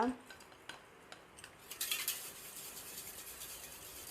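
A container holding vinegar is shaken to loosen and clear black stains, giving a few quiet clinks and rattles followed by a short, busier burst of clattering, faint and close.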